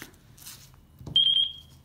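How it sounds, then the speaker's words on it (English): A FrSky radio transmitter gives a short run of about four quick high beeps while binding to a receiver, fairly close and clear over low background noise. "radio is beeping"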